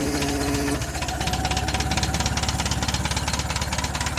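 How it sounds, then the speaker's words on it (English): A Ford 8N tractor engine, just fixed with a rebuilt starter and new-style Bendix drive, cranks and then settles into a steady rhythmic chugging idle with a knocking beat, loud and close, no talk. "Tractor's running again."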